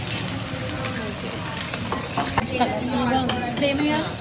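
Steady loud sizzling of rice, chana dal and urad dal frying in hot oil for a tempering, with occasional stirring scrapes, close by and continuous.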